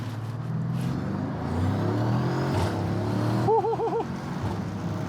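Mercedes GLS63 AMG carrying four people accelerating hard from 0 to 60, a loud cabin-heard engine and exhaust roar rising steadily in pitch, with a brief shift and a continuous rumbling drone.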